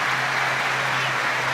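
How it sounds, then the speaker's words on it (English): Crowd applause fills a rugby league playoff match between Warrington and Widnes, a dense, steady wash of clapping from a large stadium audience without a break. "Well, round of applause for Matty Russell"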